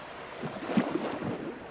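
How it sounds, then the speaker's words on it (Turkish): Recreated seashore sound effect of waves and wind: a soft whoosh swells and recedes over a couple of seconds, like a wave washing in under a constant airy background. "Deniz kıyısındaki dalgaların sesi ve rüzgar."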